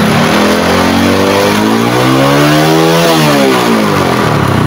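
A repaired motorcycle engine revs loud and close, climbing steadily in pitch, peaking, then dropping back down in one continuous sweep.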